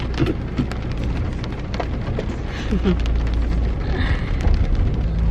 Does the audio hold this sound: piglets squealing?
no